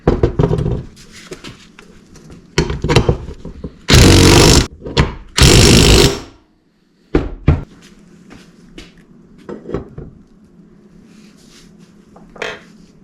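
Parts are tightened on a Honda CRF150R motorcycle during a supermoto engine, airbox and handlebar install. Close, irregular clanks and knocks come alongside two longer bursts of loud rattling noise, with short quiet gaps between the clatter.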